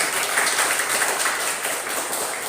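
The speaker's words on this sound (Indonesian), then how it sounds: "Mari kita memberi aplaus lagi." A primary school class applauding in a Catholic religion lesson, dense, steady clapping from many children that carries on evenly and fairly loud for the whole stretch.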